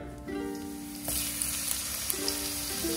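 Coconut oil heats in a pan with a steady, close sizzle and crackle that swells after the first second, with small pops and faint stirring scrapes throughout.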